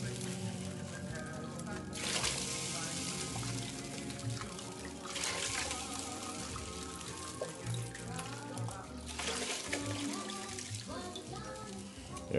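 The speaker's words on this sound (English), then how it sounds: "we're going to do 4 cups of beef broth" Beef broth, four cups of low-sodium, poured into a stew pot of beef and red wine, a steady close splashing stream in several bursts, with faint talk underneath.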